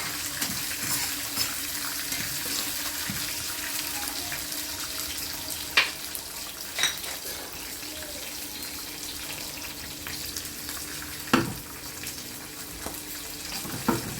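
Green chilies and dried red chilies fry in a pan with a faint, steady sizzle for mango pulihora, broken by a few soft clinks and scrapes of a utensil, with no one talking.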